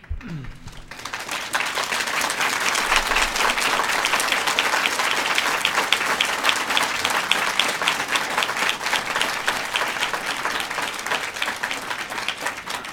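Loud, sustained applause from an audience at a school board of education study session, dense clapping filling the room steadily for the whole stretch after a brief quiet start.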